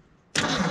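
An old Ford bumpside pickup truck engine cranks on a cold start, a sudden loud burst of starter and engine noise cutting in after a quiet moment and holding steady and close.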